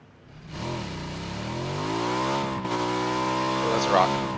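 Dirt bike revving in the game PUBG, the engine note swooping down then climbing steadily higher and louder over a few seconds, close and alone.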